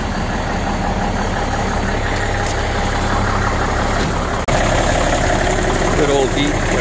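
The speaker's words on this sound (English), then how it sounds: "Good old deep mechanical N14, man." Mechanical Cummins N14 diesel idling in an L9000 truck, a deep steady rumble close by and loud throughout, with a brief dropout near the middle.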